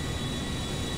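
Steady, dense jet roar from a Boeing 737 MAX 8 taking off in GTA V, a loud broadband engine rush that holds even throughout the brief moment.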